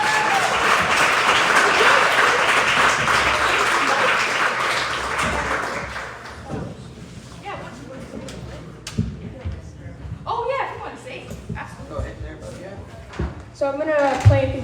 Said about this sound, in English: but we'll give a big round of applause for Luke